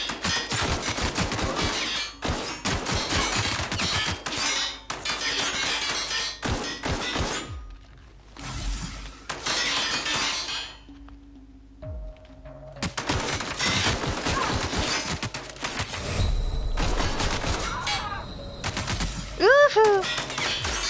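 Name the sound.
shotgun firing in the video game The Outer Worlds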